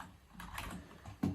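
A computer keyboard is tapped in a few faint, scattered keystrokes, close and quiet, with one sharper tap near the end.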